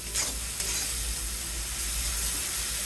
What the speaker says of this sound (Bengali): দিয়ে দেব হলুদ মশলাটা এখন ভালো করে কষিয়ে নেব